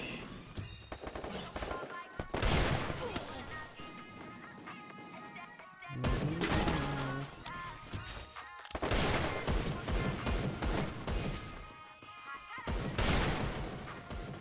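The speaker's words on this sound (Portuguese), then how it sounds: "Todo mundo atira" Bursts of rapid gunfire in a shooting video game, loud clustered volleys broken by short pauses, with music or game sounds running underneath.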